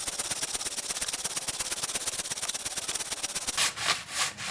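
A Silky Natanoko Japanese hand saw cuts deep through timber in fast, steady back-and-forth rasping strokes, loud and close, with no talk; the rhythm slows into a few heavier, drawn-out strokes near the end.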